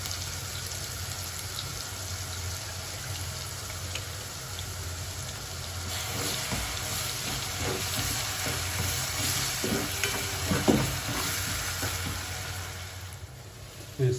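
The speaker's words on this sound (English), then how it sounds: "Your 2 medium-sized onion and about 8 garlic. Add all that in and fry." Onion, garlic and curry leaves fry together in a pan as the filling for potato and sardine epok epok, giving a steady, close sizzle throughout with scattered clicks and scrapes of stirring.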